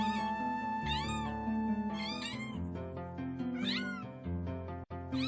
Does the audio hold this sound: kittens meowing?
yes